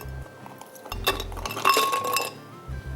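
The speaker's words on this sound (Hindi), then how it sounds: "मीनवाइल हम यहाँ बर्फ़ ले लेते हैं ब्लेंडर में" Ice cubes dropped into a blender jar in a kitchen, bright clinking and rattling against glass in a few short bursts, fairly close, with a low background hum between.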